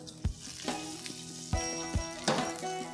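Shallots, dried red chilies and carom seeds fry in hot oil, a continuous sizzle with several sharp bursts as ingredients hit the pan, close and without talk.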